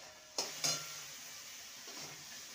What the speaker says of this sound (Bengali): আর একটু ভালো মতন কষিয়ে নেব।